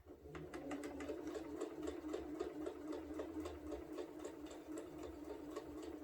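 Sewing machine stitching a quilted placemat, a steady rapid mechanical chatter of the needle running continuously at close range with no pauses.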